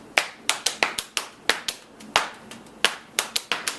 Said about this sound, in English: You can hear I'm tapping with my foot